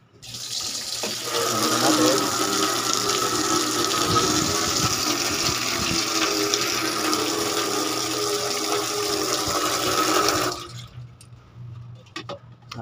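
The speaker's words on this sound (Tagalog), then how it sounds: "Buhos natin ito sa" Water pours into a washing machine with a leaking drain, a steady close rushing gush lasting about ten seconds before stopping abruptly, with a quiet voice faintly underneath.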